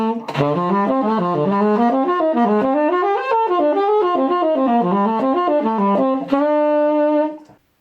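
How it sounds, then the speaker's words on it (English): A saxophone runs up and down a scale in quick, even notes, loud and close, ending on a held tone that fades out. "if I was to play that on the saxophone, it'd sound like this."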